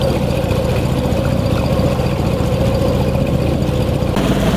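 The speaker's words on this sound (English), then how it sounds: "How's our outboard doing?" A boat's outboard motor runs steadily at low speed while sailing toward Bora Bora, a constant low drone and rumble throughout, close and fairly loud.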